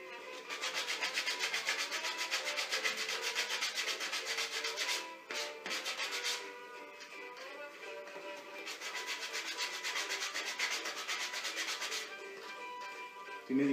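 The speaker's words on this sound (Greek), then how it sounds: "Χρησιμοποιούμε το χοντρό γυαλόχαρτο" Steady, continuous rasping of coarse sandpaper rubbed against the corners of a wooden block, back-and-forth strokes running almost nonstop with a brief pause midway.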